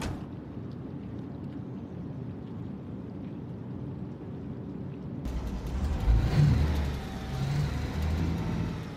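In the video game Alaskan Road Truckers on PS5, a truck engine rumbles low and steady, then louder engine noise and revving cut in halfway through, with no talk.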